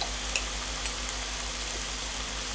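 Pork frying for afritada, a Filipino stew, with a steady, even sizzle and faint stirring clicks throughout, close to the pan with a low hum underneath and no talking.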